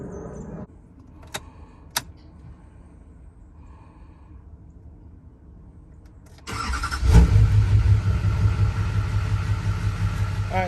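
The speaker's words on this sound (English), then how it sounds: "as the truck is running, getting that oil circulated through everything" A GMC Duramax diesel truck engine fires up after a quiet stretch with a couple of light metallic clinks, then settles into a loud, steady, close-up diesel rumble.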